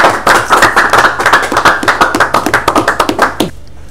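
A small audience at a French-speaking gathering claps, with distinct individual handclaps that form an uneven, close rhythm for about three and a half seconds before stopping.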